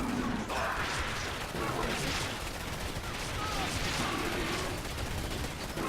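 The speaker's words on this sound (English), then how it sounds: "The rocket infantry do melt these gun walkers down pretty quick." Rocket infantry fire volleys in the Command & Conquer 3: Tiberium Wars real-time strategy game, a dense continuous barrage of loud blasts and crackling explosions in battle.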